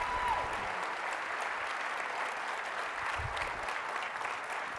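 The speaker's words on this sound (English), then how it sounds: "Let's give one more round of applause for all seven" An audience at a young professionals summit closing session applauds the presenters: a steady, somewhat distant roar of many clapping hands with a faint crowd murmur, holding evenly from start to finish.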